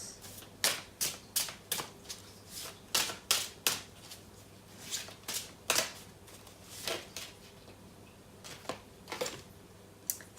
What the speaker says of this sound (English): I'm just gonna pull another card for that.